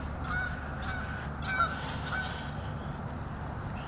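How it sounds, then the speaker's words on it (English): Geese honk a few times at Patriot Park in Pigeon Forge, Tennessee, short nasal calls coming in separate bursts at moderate distance over a steady outdoor background. "Goose."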